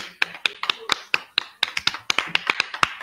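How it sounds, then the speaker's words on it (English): A small gathering gives a round of applause at a dancehall reasoning session. Sparse, crisp individual hand claps sound close by and irregular, with no talk over them. "Round of applause."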